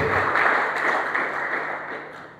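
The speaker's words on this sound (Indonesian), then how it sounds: "Beri tepuk tangan terbaik untuk" Applause from a church congregation during a sermon on evangelism, a broad steady wash of clapping that fades slightly toward the end.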